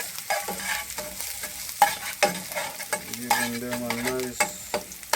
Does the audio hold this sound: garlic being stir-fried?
yes